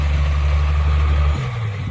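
Tractor engine running in a rainy field, a steady low diesel drone close by that drops slightly in pitch partway through, with no voices.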